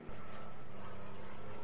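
A cargo plane in ARMA 3 passes overhead as a steady, broad engine rumble that swells in at the start and holds loud and even throughout.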